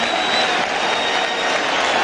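A baseball crowd of more than 50,000 at a Cardinals playoff game roars and applauds as Mark McGwire walks out on deck, a dense, steady wall of cheering and clapping that holds loud and unbroken throughout.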